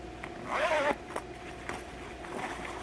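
The zipper on a travel bag pocket is pulled open in one short scratchy stroke, followed by a few softer rustles and clicks nearby.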